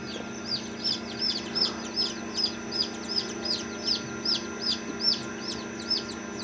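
Newly hatched chicks in an incubator, among them Japanese, English Game and Polish breeds, peep in a steady run of high, repeated chirps, about two per second, close by and with no talk.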